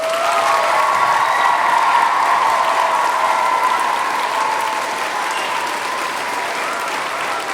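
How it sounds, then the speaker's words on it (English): Sustained, full applause from a large audience in Snape Maltings Concert Hall, many hands clapping evenly and loudly for several seconds, a faint ringing tone running beneath it, fading slightly toward the end. "So big round of applause to all of those people."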